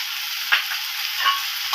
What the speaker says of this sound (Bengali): এইবার আমি মশলাটাকে ভালোভাবে কষিয়ে নেব